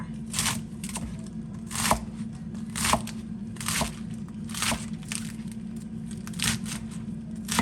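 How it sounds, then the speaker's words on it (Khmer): Repeated crisp knife chops of vegetables on a cutting board, coming in uneven bursts over a low constant hum, with no talking. "នេះយើងហាន់បន្លែ"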